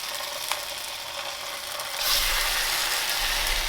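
A salmon fillet with its skin on, Woolworths Asian style, is laid skin side down in an oiled pan, and a steady, fairly loud sizzle swells up about halfway through and holds to the end, with no talking.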